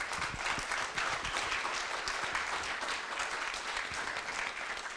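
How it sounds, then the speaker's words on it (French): An audience claps after a talk on irrigation management, a steady, somewhat distant wash of applause lasting the whole stretch, with no speech over it. "on vous applaudit"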